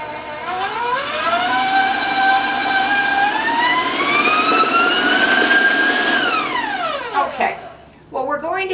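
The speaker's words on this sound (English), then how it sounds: "I'm going to turn the mixer on for a little bit here" An electric mixer works ginger cookie dough: its motor whine climbs steadily in pitch, holds strong and close, then winds down sharply near the end, with a brief restart after a pause.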